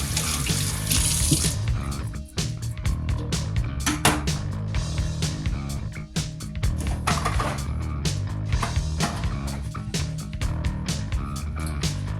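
Tap water runs into a kitchen sink while a knife is rinsed under it, a close, continuous splashing stream broken by uneven spatters and clinks as the blade moves through the flow.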